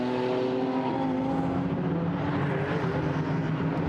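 A GT4 race car climbs out of Westfield through Sheen Curve at Brands Hatch during qualifying, its engine a steady, loud drone with harmonic tones that shift slightly in pitch as it passes, with no talk.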